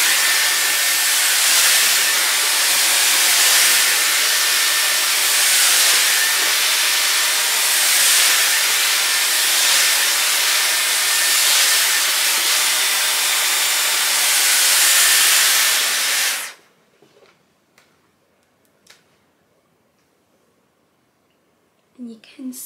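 A Dyson hair dryer running on its highest heat setting gives a loud, steady airy roar close by for about sixteen seconds, then cuts off abruptly, leaving near silence with a few faint handling clicks.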